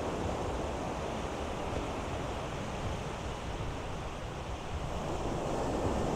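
Ocean surf rolling onto a beach at night in Quy Nhon, a steady loud wash of breaking waves with wind buffeting the microphone, no voices over it.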